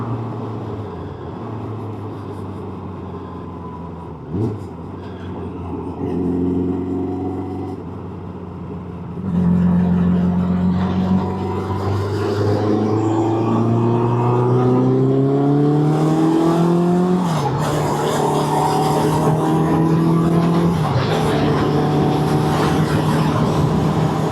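A Suzuki Bandit 600 motorcycle is being ridden on the road, its engine droning steadily and then climbing in pitch through several rising revs as it accelerates, loud and close throughout with constant wind noise.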